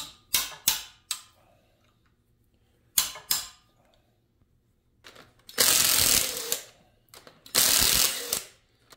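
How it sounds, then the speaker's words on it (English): A ratchet loosens the timing gear bolts on a C5 Corvette LS6 engine: a few brief clicks, then two sustained runs of rapid ratcheting, close and clear. "Next up, we need to pull the 3 timing gear bolts."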